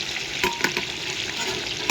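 A brief, close stretch of fish frying in a pan: a dense, steady sizzle with a few soft spatula knocks.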